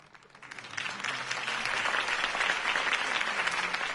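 Applause in the video game Batman: The Telltale Series swells up from a quiet start into a full, sustained round of clapping from a large crowd.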